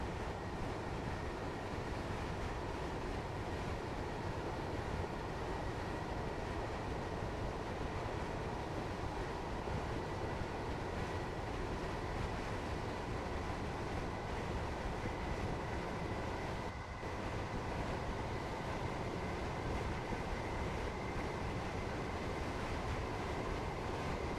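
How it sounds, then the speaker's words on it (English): A train in the Train Sim World 3 video game runs with a steady, dense rumble and clatter from the cab, continuous and evenly loud throughout with no talking. "Beautiful train though, beautiful scenery, beautiful sounds."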